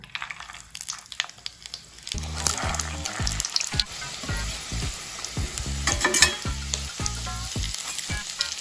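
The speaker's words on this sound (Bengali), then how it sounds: "স্প্রিং রোলগুলোকে হাফ ডান করে নিয়েছিলাম। এইবার আমরা এগুলোকে তেলে আবার দিয়ে দেবো।" Half-done spring rolls going back into hot oil for a second deep-fry, wedding-kitchen style, give a steady close sizzle and crackle with heavy rhythmic low thuds running underneath.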